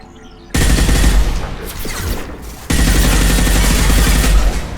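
Sustained heavy gunfire in Mass Effect 2 on PC, a dense rapid fusillade that bursts in loudly, dips briefly, then resumes just as intense.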